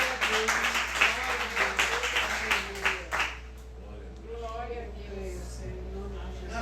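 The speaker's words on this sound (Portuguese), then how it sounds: "dê uma salva de palmas a esse Deus" Congregation applause during a church service, clapping for about three seconds that overlaps a speaking voice, then fading as the voice continues alone.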